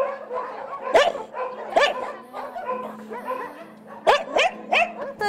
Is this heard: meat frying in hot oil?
no